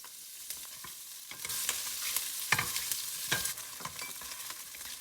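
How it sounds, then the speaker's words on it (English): Spam hitting hot oil in a pan crackles and sizzles loudly, the frying building after a quieter start with sharp pops and spatters scattered throughout. "Add some more oil and add the spam."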